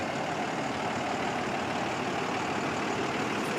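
A heavy-duty diesel engine idles in a Cleveland EMS ambulance, a steady, loud, continuous rumble with no change in pitch and no voices.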